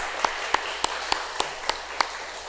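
A church congregation at Sunday worship claps in encouragement, a few distinct sharp claps standing out at a steady rhythm over a soft wash of background applause.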